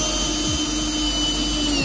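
Power drill driving screws into a plywood subfloor, a steady loud whine held close throughout with a slight pitch drift, no talk over it.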